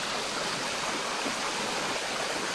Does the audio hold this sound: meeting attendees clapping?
no